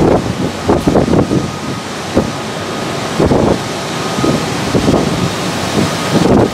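Strong wind buffets the microphone in loud, irregular gusts, rumbling and roaring with no voices.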